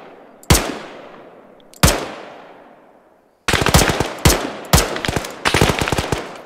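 A SAW machine gun in Arma 3 fires two loud single shots with ringing decays, then breaks into close, rapid bursts of automatic fire that carry on to the end.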